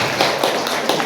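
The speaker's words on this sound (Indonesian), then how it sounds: "Tepuk tangan dong buat Lazismu." Brief audience applause in a hall during a speech, a short burst of overlapping claps, close and moderately loud.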